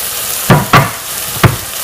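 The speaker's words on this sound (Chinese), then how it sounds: "西红柿放进去炒一下，" Tomatoes are stir-fried with spices in a pan for a Thai tom yum soup: a steady close sizzle with three sharp, louder scrape-and-toss bursts of stirring, without any speech.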